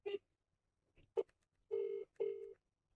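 A phone dials out from inside a sleeping pod: a short beep, a brief tone, then two longer ringing tones, all faint and close, with no talking.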